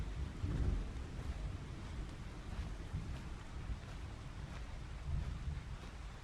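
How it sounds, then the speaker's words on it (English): Steady rain hisses in the Path of Titans game world, a soft continuous wash with low rumbling swells like distant thunder, faint and without talk. "Oh, and it just started raining."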